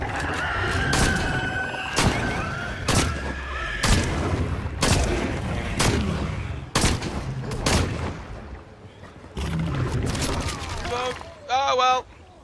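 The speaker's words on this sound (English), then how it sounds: "I'm gonna have to just shotgun" Shotgun blasts in a video game fire one after another, about six or seven loud booming shots spaced roughly a second apart, followed by a short burst of high electronic game sounds near the end.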